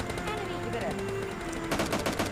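Gunfire in the mobile battle-royale game PUBG Mobile Lite, with rapid bursts of shots crackling through steady game noise, growing denser and louder toward the end.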